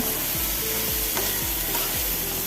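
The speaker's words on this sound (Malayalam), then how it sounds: "ഇനി എല്ലാം കൂടി നല്ലോണം മിക്സ് ചെയ്യുക" Cauliflower curry with curry leaves being stirred in a pan, a steady sizzle of frying with repeated scraping strokes of the spoon at a regular rhythm, close and continuous with no voices.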